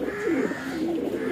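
Pigeons coo in a continuous, rolling chorus of low, throaty calls, steady and fairly close, with no talk over them.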